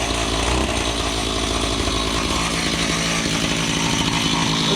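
A Zenoah G43 two-stroke engine on a friction-drive bike runs loud and steady at close range, a constant raspy buzz like a chainsaw with no breaks.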